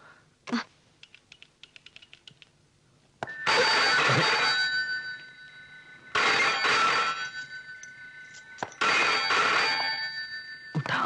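A landline telephone bell rings in repeated long bursts at night in a house, loud and close, with a few faint clicks and taps between rings and no talking.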